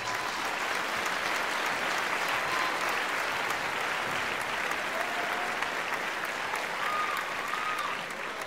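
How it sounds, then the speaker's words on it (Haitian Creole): Sustained applause from an audience at the 2015 Plezikanaval Awards ceremony, loud and steady for about eight seconds with no pause. "Battons gros bravo pour Clara Luce s'il vous plaît."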